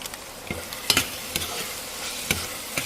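Cumin sizzles in hot oil in a pan, frying golden brown for channa masala. A spatula gives several sharp, irregular clicks and scrapes over a steady frying hiss.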